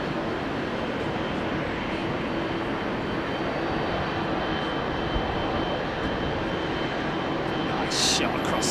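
A Qatar Airways Airbus A350 touches down at Heathrow. Its engines make a steady, loud roar that holds throughout, with faint voices in the background.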